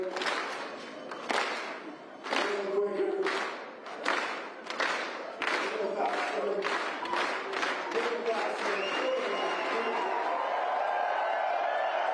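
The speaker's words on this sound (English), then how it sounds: "you guys are going to clap with me" A crowd at the start of the Broken Arrow Skyrace 23K trail race claps in unison with an announcer, slow steady claps picking up pace, then giving way to a general roar of cheering and noise.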